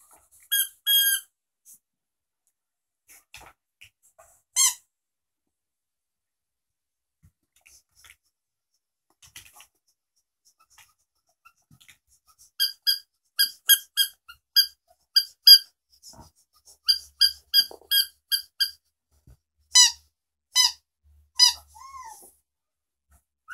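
Small dogs give short, high yips and squeaks in scattered bursts, with long quiet gaps between them and a denser run of rapid barks partway through, heard nearby indoors.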